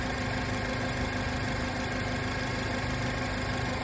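A 2012 Chevy Malibu engine with a misfire idles steadily, giving a dense, continuous mechanical drone with an even vibration throughout and no voices.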